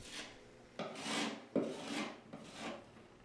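Sanding over a patched hole in a wall where a fastener was removed, likely over joint compound: four rasping strokes in an even back-and-forth rhythm, close and fairly quiet, with no voices.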